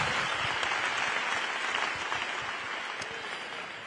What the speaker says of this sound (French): Grand applaudissement